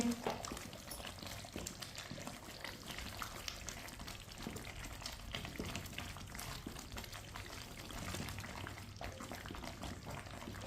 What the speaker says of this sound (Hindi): इसी तरह चम्मच चलाते हुए गाढ़ा होने तक पका लेंगे